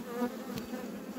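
Honeybees from a queenless, orphaned hive buzz steadily, a dense continuous drone close by with no voices.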